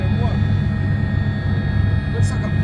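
A helicopter flying over Glastonbury Festival gives a loud, steady rotor and engine drone heard from inside the cabin, continuous throughout, with voices faintly present.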